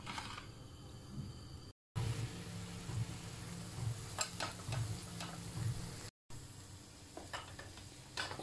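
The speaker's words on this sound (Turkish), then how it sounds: "Soğanlarımızı kavuralım." Onions frying in oil for a béchamel lasagna sauce, with a steady sizzle running throughout and occasional light clicks and stirring scrapes of a utensil in the pan, broken by two brief silent cuts.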